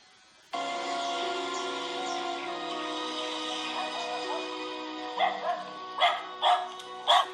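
A dog barks several times in short, sharp bursts near the end, after a sustained tonal drone fills most of the clip.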